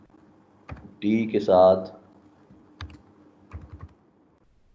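Keys clack on a computer keyboard while Python code is typed, a few short bursts of light taps with someone speaking briefly over them.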